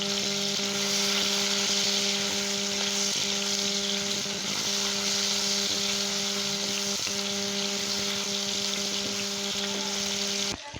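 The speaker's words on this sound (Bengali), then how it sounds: "তেলটা গরম হয়ে গেছে, এখন মাংসটা আমি ভাজিয়ে নেব" Chicken meat frying in hot oil in a wok for a chicken ghugni, giving a steady, close, continuous sizzle and crackle that holds evenly throughout with no voices.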